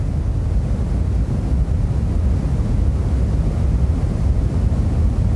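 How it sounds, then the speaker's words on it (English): Cosmic microwave background radio noise, the faint leftover signal of the Big Bang, rendered as a steady, unbroken hiss with a heavy low rumble, alone and without voices throughout. "This is the sound of the Big Bang, but 14 billion years after it happened."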